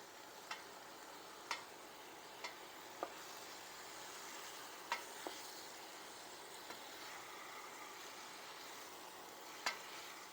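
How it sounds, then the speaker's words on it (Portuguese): Chicken frying in a pan, a faint steady sizzle broken by a few sharp taps and scrapes as it is stirred and turned. "Vamos mexer um pouco de cada lado até ele ficar bem douradinho"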